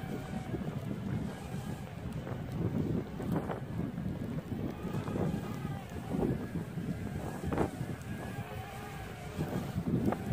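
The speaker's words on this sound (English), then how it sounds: "Maybe a little too windy out here" Strong wind roars steadily outdoors in snow, buffeting the microphone with low rumbling gusts and occasional louder bursts.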